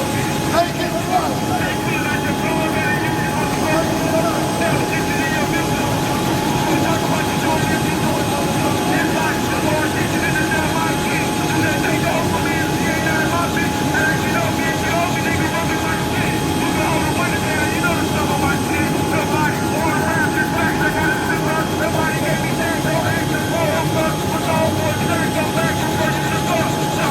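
A helicopter flies close by with a loud, constant engine and rotor roar that stays steady throughout.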